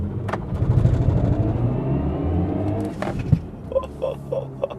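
A BMW M50 electric car makes its launch sound in sport boost mode, a loud synthetic roar and rumble that swells through the first seconds, then eases off, followed by a few sharper clunks and whirs.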